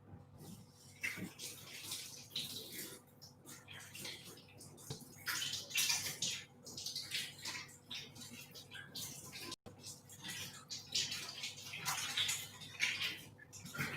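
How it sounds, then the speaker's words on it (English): Water runs steadily from a tap as hands are washed in a home kitchen during baking, a continuous hiss with small splashy shifts, close by and fairly quiet, with a brief break near the end. "I'm just gonna wash my hands whilst you guys catch up."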